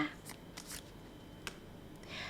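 A tarot card is drawn from the deck and flipped over, giving a few soft, quick paper slides and snaps, quiet and close, with a brief rustle near the end.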